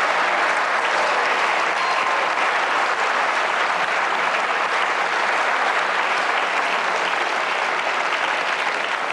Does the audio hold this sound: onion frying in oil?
no